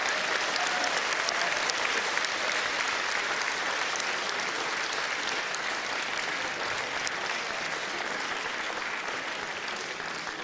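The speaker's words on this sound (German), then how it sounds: "Das ist ein Applaus." Sustained, loud, even applause from a large audience at a Schlager music show, a continuous wash of clapping with no break for the full length.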